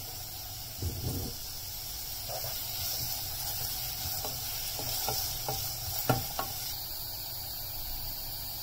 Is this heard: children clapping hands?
no